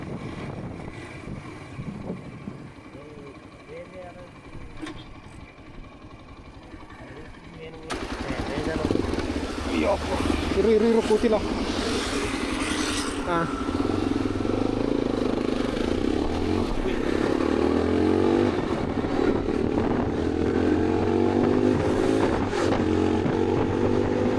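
A Yezdi Adventure 2025 motorcycle engine kicks in loudly partway through and keeps droning, its pitch climbing as it accelerates during a test ride, with talk audible underneath.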